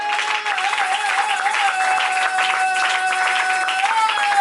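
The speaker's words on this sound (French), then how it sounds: "Est-ce qu'on peut acclamer très fort pour le Seigneur?" A church congregation at a Pentecost teaching applauds and cheers for the Lord, a dense, continuous clapping under a sustained tone and voices.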